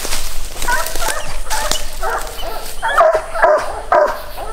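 Raccoon-hunting hound pups bay and yip while treeing in the woods, giving loud, close barks and whining cries in uneven bursts.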